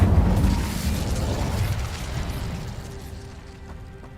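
An Incendio fire spell cast in the Hogwarts Legacy video game, a loud whooshing burst of flame with a deep rumble that slowly fades and thins out over a few seconds, with no talk.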